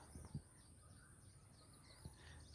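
A crow caws a few times at moderate distance near its nest in a quiet village setting in Palghar, with soft thuds and a steady high hiss in the background.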